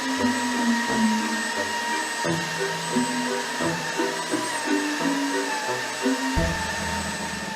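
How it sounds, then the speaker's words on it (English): A vacuum cleaner runs steadily, sucking up glitter, with a loud continuous motor drone and shifting whine and small changes in pitch as it moves, and no talking. "The most important part about fixing a vacuum cleaner is having to test the vacuum cleaner to see if it runs"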